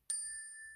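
A single clear chime sound effect strikes once and rings on as a bright, sustained metallic tone, alone and steady without fading much.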